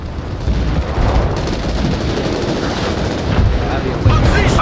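Dense gunfire rattles in Crossfire: Legion, a loud sustained exchange of rapid shots and booming blasts without pause, with a heavier burst near the end.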